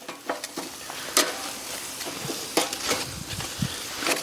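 Tomahawk ribeye steak sizzling over flame on a PK300 charcoal grill, a steady close frying hiss broken by scattered crackles and pops, with no talking.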